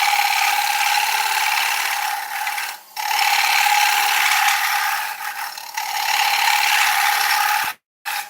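A scraper shears across spinning dieback ash on a wood lathe, giving a steady, close, loud scraping hiss over the lathe's hum. It dips briefly twice and cuts out near the end.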